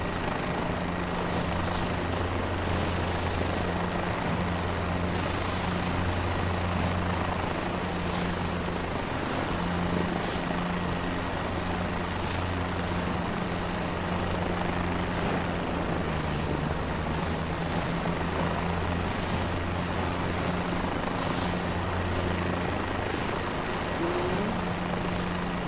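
A video-game helicopter taxis toward its takeoff position with a steady, continuous rotor and engine drone. The turbine hum holds a constant low tone, loud and close, for the whole stretch, and no one speaks.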